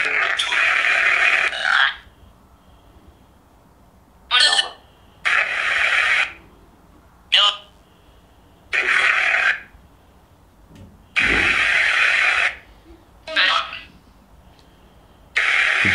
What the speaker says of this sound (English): Let's try some white noise.